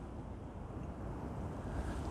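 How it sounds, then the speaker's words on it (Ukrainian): Steady north-westerly wind rushes and buffets the microphone outdoors by a river channel in Kyiv, a continuous low roar with no speech. "і вітер якраз північно-західний"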